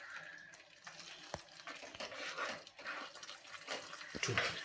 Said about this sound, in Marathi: हे सर्व गुळाचं पाणी मी या शिऱ्यामध्ये किंवा रव्यामध्ये घालून घेते